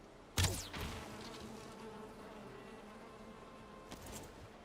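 Bees buzz at a beehive in a video game, a steady, faint droning hum throughout, broken by a sharp thud near the start and a second softer knock toward the end.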